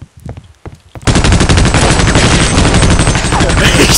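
Video game gunfire: a few scattered shots at first, then a loud, sustained burst of rapid automatic fire running to the end.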